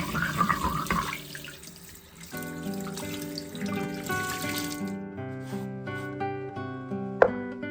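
A stone mortar and pestle is rinsed under a running kitchen tap, water gushing and drumming into the bowl with shifting ringing tones, then slowing to trickles and a final clink.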